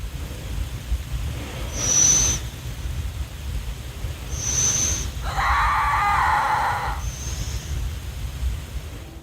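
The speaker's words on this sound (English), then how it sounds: "He speculated it might be some type of bird." A piercing, screechy call repeats three times at spaced intervals over a dull outdoor rumble, with a louder wavering cry in between.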